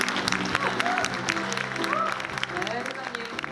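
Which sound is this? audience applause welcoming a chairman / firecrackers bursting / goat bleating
audience applause welcoming a chairman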